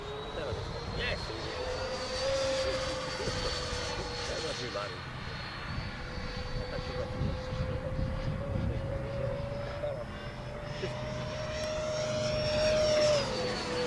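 Freewing MiG-29 Fulcrum RC model jet flying slowly at high angle of attack, a steady whining turbine tone that holds for the whole stretch and swells slightly near the end, with wind and outdoor rumble beneath.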